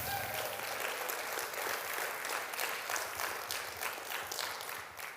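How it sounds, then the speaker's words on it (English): A conference audience of honors college attendees applauds steadily for about five seconds, a dense, even wash of many hands clapping at fairly close range that tapers slightly near the end, with no speech over it. "Give yourselves a round of applause"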